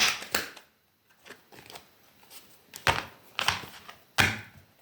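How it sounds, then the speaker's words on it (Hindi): Tarot cards are shuffled in irregular bursts of crisp riffling and flicking, close and fairly quiet, separated by short pauses. "एक लास्ट शफल ले लेते।"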